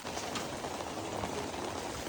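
Steady rain falling outside a home, a dense, even hiss of drops on surfaces with no break, moderately loud and uninterrupted by voices.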